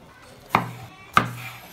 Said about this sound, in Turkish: Kırmızı biberleri doğruyoruz